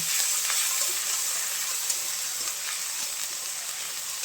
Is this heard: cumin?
yes